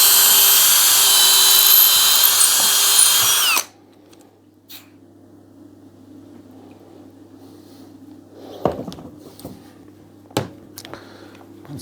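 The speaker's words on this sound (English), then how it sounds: "Now we'll drill this side," A power drill bores into a wooden Puukko knife handle, whining loudly and steadily for about three and a half seconds before cutting off, followed by a quiet room and a few sharp knocks.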